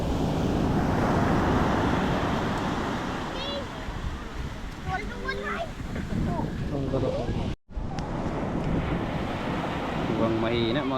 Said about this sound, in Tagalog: Lumakas kasi yung alon.